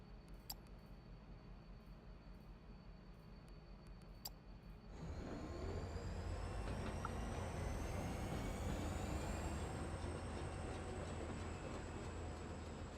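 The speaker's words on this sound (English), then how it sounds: "It's gonna take a while for the trains to go back." Trains running in the Foundry factory-building game, a steady broadband rumble with rising and falling tonal whines that begins abruptly partway through after a few faint clicks, then stays loud and continuous.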